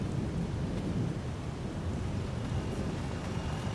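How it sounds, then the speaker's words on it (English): Low, steady thunder rumble from a stormy sky in a farming video game, a continuous dull roll filling the background with no talking. "A bit of thunder."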